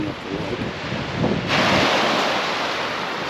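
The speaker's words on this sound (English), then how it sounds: "we're getting waves coming in off the lake" Waves roll in off a lake beside a beach on a trekking route in Torres del Paine, a steady wash of surf mixed with gusty wind noise on the microphone, swelling louder midway, with no talk.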